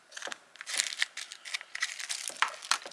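A plastic zip-lock bag holding small accessories for a Shiba Inu designer vinyl figure is handled up close, giving repeated crinkly rustles and crackles in short bursts for about three seconds, with no talking.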